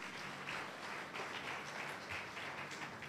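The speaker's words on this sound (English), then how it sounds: "Clap your two hands for Jesus." A church congregation claps hands together during a Sunday morning service, a steady wash of many overlapping claps heard from a moderate distance for the whole stretch.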